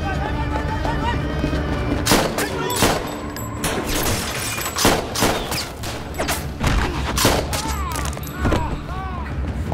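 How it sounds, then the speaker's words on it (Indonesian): Gunfire during a shootout with guards in an action film, heard as repeated sharp loud shots and bursts over a dense, busy soundtrack, some rapid volleys mixed with crashes, continuous throughout. "Santo pun terlibat dalam aksi baku tembak dengan para penjaga"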